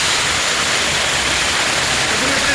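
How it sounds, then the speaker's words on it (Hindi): Water gushing under high pressure from a hole in a water tank during plumbing work in Islamabad: a loud, steady, dense rushing hiss, close by and continuous throughout. "टंकी में सुराख हो चुका है और टंकी में पानी भी बहुत ज़्यादा है"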